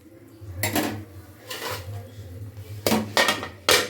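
Metal spoon clanking and scraping in a kadai as meat is mixed with ground onion, chili and spices: several sharp bursts of clatter over a low steady hum.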